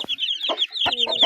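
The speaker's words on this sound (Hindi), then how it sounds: "ये हमारी मुर्गी भी थोड़ी ठीक है, ज़रा मोटी हो गई है थोड़ी बहुत" Short, repeated clucks from a plump hen kept with birds in a small home zoo, close by and fairly loud, broken into a few brief bursts with no talking.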